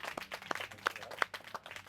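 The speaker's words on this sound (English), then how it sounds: "give him a round of applause" Scattered hand claps from a small group at a relaxation workshop, soft and irregular with a few sharper claps standing out, fairly faint and without talk.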